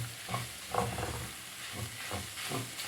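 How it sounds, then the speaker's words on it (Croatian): Eggs fry in a pan with olive oil and garlic while being stirred, giving a soft sizzle broken by repeated scraping strokes of the utensil at a close, quiet level. "to se sve lijepo miješa, prži"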